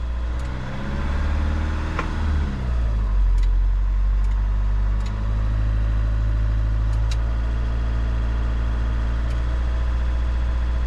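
A Volkswagen Caddy engine, held at about 2,500 revs to find a leak, runs steadily at raised revs, a constant loud drone with a brief rise early on, then holding even throughout.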